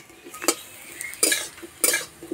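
Potatoes frying in a pan on a hot clay stove, stirred with a utensil that scrapes and clacks against the pan in three or four sharp bursts over a faint sizzle.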